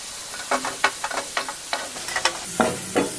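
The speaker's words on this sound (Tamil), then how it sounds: "நல்லா வதங்கட்டும் தக்காளி எல்லாம் சேர்ந்து ஒரு ரெண்டு நிமிஷம் வதங்கினா போதும்" Tomatoes and mint sauté in a pan for coconut rasam, with a spatula scraping and stirring in repeated sharp strokes over a soft sizzle, close and clear, with no voices.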